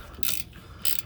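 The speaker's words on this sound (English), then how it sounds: "Pretty easy to do if you have a good ratcheting wrench or socket wrench" A ratcheting wrench backs out a 12 mm bolt during a cat-back exhaust install on a 1998 Mitsubishi Eclipse GS 2.4 Spyder, giving two short, close bursts of rapid clicking separated by a quiet pause.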